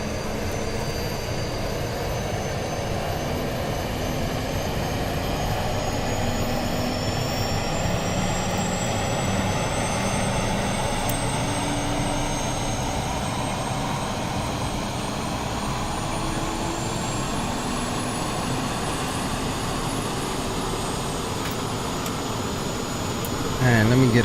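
An Airbus A320neo-family airliner jet engine running in Microsoft Flight Simulator, a loud steady rumble and roar with a slowly climbing high whine, sustained throughout, with a voice talking over it.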